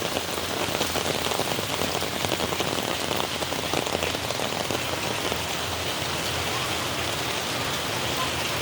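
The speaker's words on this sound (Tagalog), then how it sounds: "Lakas ng ulan talaga." Heavy pre-dawn rain pours steadily in a dense, hissing roar with countless drops spattering nearby, unbroken throughout and with no voices.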